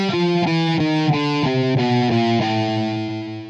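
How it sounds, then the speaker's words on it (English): Electric guitar through heavy distortion, a sequence of sustained, gritty notes stepping downward one after another, loud and close with a thick harmonic buzz. "adding distortion to it, adding a bit of grit to that"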